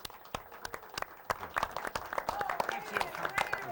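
An audience at a midnight comedy show claps for a singer, with sparse, distinct claps that build into thin, uneven applause while voices murmur underneath.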